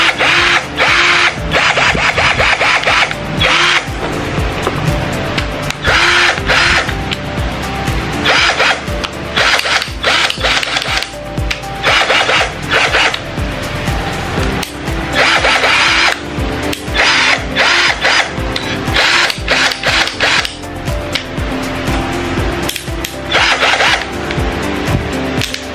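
A DeWALT 149V cordless drill test-runs in repeated loud, close bursts of high whining motor spin with short gaps between, and there is no talk.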